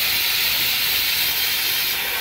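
A pressure cooker steadily hisses and whistles with loud, continuous steam while chickpeas and potatoes cook on a village stove, with no pause across the whole stretch.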